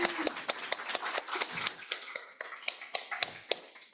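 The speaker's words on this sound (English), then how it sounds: "Let's give her a round of applause." A small audience at a book launch event gives a round of applause, with sparse, distinct claps at a fairly regular pace, moderately close and not very loud.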